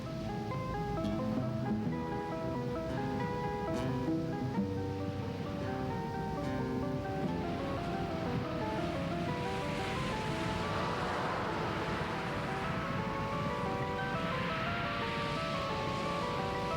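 Ocean surf crashing against a newly formed lava coastline, a continuous roar of breaking waves with sustained tonal droning layered over it throughout.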